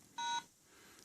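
A single steady keypad beep from a Motorola Microtac Micro Digital vintage brick cellphone, clear and close, lasting about a quarter second, followed by a faint click.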